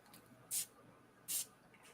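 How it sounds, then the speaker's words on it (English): Two short, soft hissing bursts of perfume spray about a second apart, close by in a quiet room. "So let's give it a spray."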